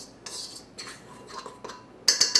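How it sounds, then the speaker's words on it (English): Muffin batter being stirred in a bowl, a utensil scraping and clinking against the sides in several short bursts, close and fairly quiet, ending with a few sharper clinks. "Just stir it all together."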